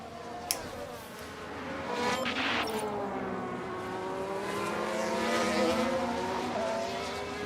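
Formula 1 race cars with Caterhams among them, lapping in the racing game F1 Manager 2013 at Spain. Engines whine steadily at a moderate distance, their pitch sweeping up and down as the cars pass, with a few sharp clicks early on.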